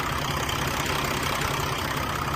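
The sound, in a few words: 2013 Peterbilt 384 truck engine idling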